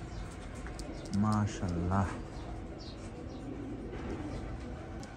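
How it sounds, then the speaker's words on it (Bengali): White golden pigeons coo in a pair of short, low, throaty bursts close by, while someone talks quietly over a faint background hum. "হোয়াইট কালারের কবুতর, হোয়াইট গোল্ডেন"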